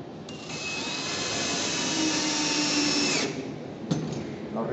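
A power screwdriver drives a screw to mount a corner clamp, whining steadily for about three seconds before stopping, followed by a short second burst.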